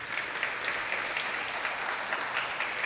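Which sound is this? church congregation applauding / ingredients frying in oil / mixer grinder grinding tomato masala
church congregation applauding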